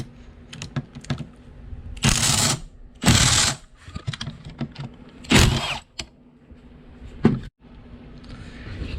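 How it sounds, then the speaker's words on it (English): A Milwaukee stubby impact wrench removes seat nuts in a 1995 Mercedes-Benz E320, firing three loud, close bursts of rattling hammering between quieter clicks and handling sounds. "I love tools like this little stubby Milwaukee impact wrench"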